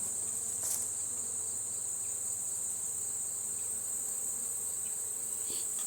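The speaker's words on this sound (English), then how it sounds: "So we got a lot of young bees coming out there." Young honeybees emerging on an old brood frame during fall requeening, giving a steady, close insect buzz with a constant high drone that carries unbroken throughout, with no talking.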